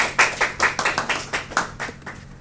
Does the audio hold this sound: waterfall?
no